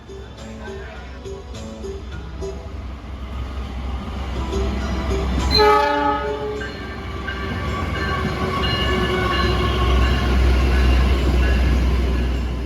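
An Indonesian passenger train arrives at Cirebon station with a loud horn blast midway, set against a building rumble of wheels and engine that grows heavier and closer, while voices chatter on the platform.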